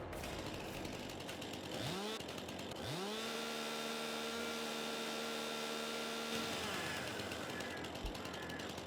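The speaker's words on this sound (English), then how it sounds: "These two look like they're going to need the chainsaw." A chainsaw in the Farming Simulator 22 video game cuts trees on the Elk Mountain, Wyoming map. Its engine revs up twice in quick succession, then holds a steady whining drone for a few seconds before dropping off, over a constant low hum.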